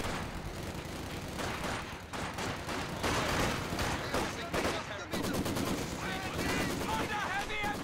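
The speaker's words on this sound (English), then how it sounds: "Under heavy MG fire!" Machine gun fire in Company of Heroes 2, from Maxim guns in a building, with sustained rattling bursts layered over distant explosions and battle noise, growing louder midway, with shouted voices in the mix.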